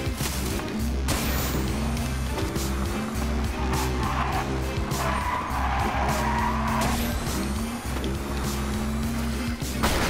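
A motorcycle in the racing game Onrush drones on without a break while its tires skid and squeal across the track, and faint game effects sit beneath the engine.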